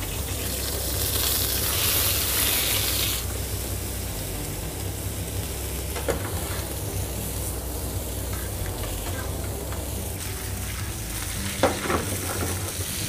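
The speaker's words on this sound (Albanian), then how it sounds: "hedhim aragostën e tigan" Lobster sizzles and fries in a pan of extra-virgin olive oil, a steady close crackle that is louder at first, with occasional stirring clatters.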